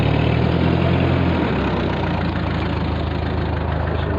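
A 1948 Ford 8N antique tractor, fitted with a new starter, idling steadily right after start-up, a loud close continuous engine rumble with an even low chugging throughout.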